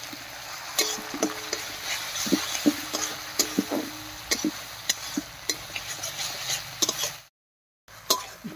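Grated onion with ground dried chilli and cumin paste being stirred in a pan, a series of distinct scraping and tapping strokes over a low background hiss, briefly falling silent near the end.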